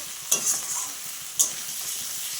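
Katla fish curry masala sautéing in oil, a steady hiss of frying with two sharper spatula scrapes or stirs, close up and alone without voices.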